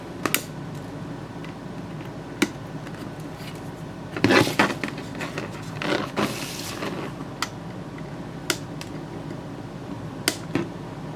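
Trimming excess 3D-printed plastic from a printed rear panel for an AV Famicom, heard as sparse sharp snips and creaks spread across a quiet room, with a denser cluster of scraping cuts midway.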